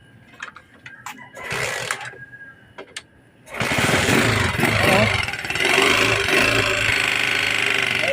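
A noisy Euro 150 motorcycle engine in Pagbilao, Quezon, first idles unevenly under brief talk, then revs up loudly and keeps running with a rough, continuous roar close by.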